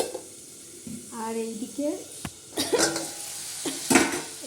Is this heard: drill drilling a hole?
no